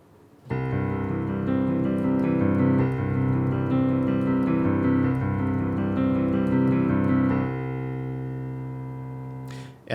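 A piano plays a left-hand arpeggio exercise with a triplet feel, a steady rolling run of notes for about nine seconds, ringing out at the end before a brief noise.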